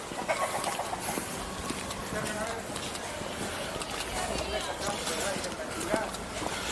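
A rooster crows somewhere along a busy street, its call brief and mid-distance amid a steady wash of traffic and town noise; someone talks over the scene.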